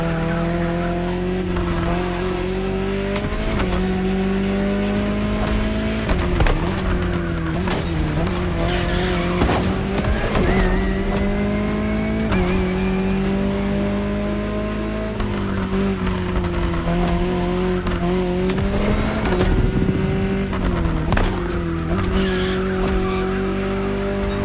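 A Jaguar CX-75 concept car drives in The Crew Motorfest, its engine droning steadily and loud throughout with rising and falling revs and repeated bursts of tire squeal and skidding.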